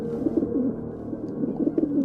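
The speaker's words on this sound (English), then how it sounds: "the wood pigeons bubbling with content" Wood pigeons coo in a soft, bubbling series of low repeated phrases near a farm, with a steady hum that may be a threshing machine running underneath throughout.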